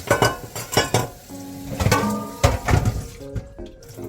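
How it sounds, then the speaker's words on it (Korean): Water pouring and splashing into a metal steamer pot for corn, with clanks and knocks of the pot and lid mixed in, close and fairly loud, no talking. "이게 찜기인데 여기다 좀 물을 넣고"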